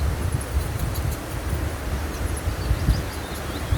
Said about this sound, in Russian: Ветер поднимается